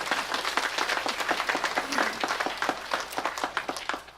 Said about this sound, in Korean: 박수 한번 치실까요?